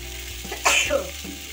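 Potatoes and cauliflower drop into a cooked-down spice masala with a short burst of sizzling and frying, close and fairly loud, fading quickly.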